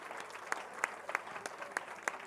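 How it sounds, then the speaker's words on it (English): Audience applauding podium finishers at a cycle challenge prize giving, a sustained patter of clapping with sharper individual claps standing out, moderately distant. "Nice big round of applause"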